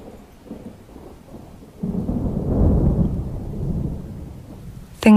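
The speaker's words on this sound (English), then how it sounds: "Things that may be heard in thunder." Thunder rumbling in a thunderstorm, a low rolling rumble that swells and lingers over soft background rain before fading.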